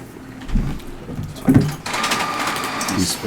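A home printer runs in the background, its mechanical whirring and shuttling carriage clunks coming in bursts, with a brief sharper clatter midway, mostly beneath a low murmur of room noise and some faint speech.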